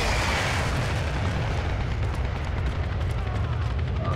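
Airstrike explosions in the shooter game Dirty Bomb form a dense, continuous wall of rumbling blasts and booms, loud and sustained, with no gaps.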